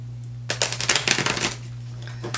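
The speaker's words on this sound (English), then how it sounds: "And I am going to shuffle." A deck of playing cards is shuffled in one quick riffle of rapid flutters lasting about a second, close and clear over a steady low hum, followed by quiet.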